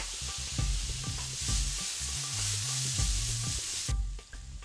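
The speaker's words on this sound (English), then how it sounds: "The stir fry is just about done" Onions, carrots and cabbage stir-frying for chicken yakisoba, a loud close sizzle broken by rhythmic scraping and tossing strokes, cutting off sharply near the end.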